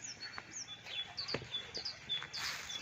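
Faint, high bird chirps and short warbling notes repeat across the clip, distant and thin over a soft outdoor background.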